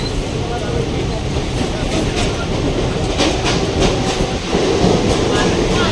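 Steady rumbling clatter of a train running on rails, close and continuous, with faint voices murmuring underneath.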